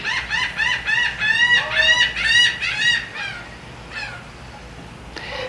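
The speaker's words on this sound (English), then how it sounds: "Birds." Chickens cluck and squawk in a lively close burst, then calls thin out to a few sparse clucks.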